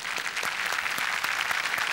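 A studio audience at a Marathi comedy show applauds, dense steady clapping throughout, loud and close with no talking over it.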